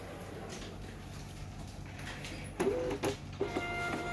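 A Gprinter GP1924D inkless thermal label printer runs under a steady background hum, then gives a few short whirring feed bursts close by as it prints a label.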